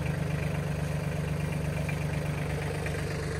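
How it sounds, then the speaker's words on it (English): A compact tractor engine runs at a raised idle, a steady close low throb with an even pulsing rhythm throughout and no talk over it. "I leave usually the tractor like this, running at a higher idle, and just to shake the ground off."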